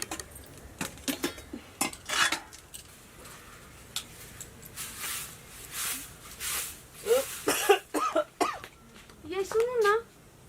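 Dishes, pots and utensils being washed, with scattered metallic clinks and clatters near and intermittent, mixed with coughing and a voice speaking over them.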